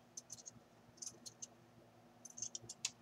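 Scissors trimming a mannequin being made into a doll, sparse short snips and scratchy clicks in small clusters over quiet room tone, with no talking.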